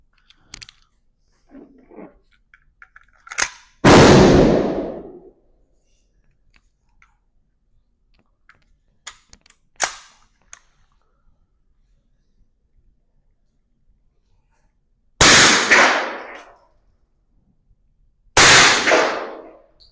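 A suppressed Hi-Point firearm firing, several loud, sharp bursts spaced apart with quiet gaps, mechanical clicks and clanks of handling between the shots.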